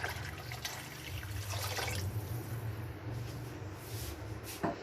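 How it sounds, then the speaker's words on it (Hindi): A jug of water poured into a pot of Punjabi karhi pakora, giving a steady, fairly loud rushing and splashing that runs for several seconds with no voices. "ये देखें एक और चला गया जग पानी।"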